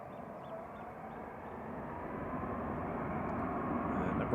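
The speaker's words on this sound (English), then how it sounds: "And Ryanair departing in the background, going to Bologna" A Ryanair jet departs for Bologna from Manchester Airport, its broad engine roar steady in the background and slowly building over a few seconds, with no talking.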